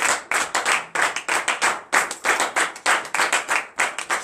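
A church congregation at morning prayer claps in a steady, rhythmic unison beat, sharp regular hand claps repeating about three per second, fairly close and without cheering voices.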